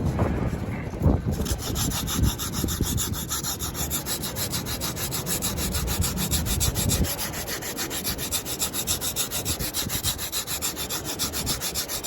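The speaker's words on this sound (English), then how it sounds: "So I'm going to start off with sanding this profile." Continuous rhythmic sanding of a foam bottle mock-up profile, a steady scratchy rubbing with repeated strokes, close up and fairly loud, without speech.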